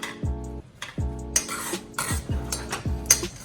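A spoon mixes a good spoonful of butter into rice cooking in a pot, giving repeated scraping and clinking strokes against the pot at a steady rhythm, with no talking.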